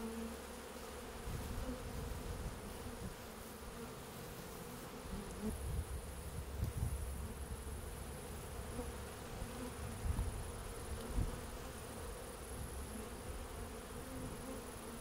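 Honeybees buzz around an open beehive, with clusters of bees hanging between the combs during a varroa treatment. A steady close drone continues throughout, with occasional louder passes near the microphone.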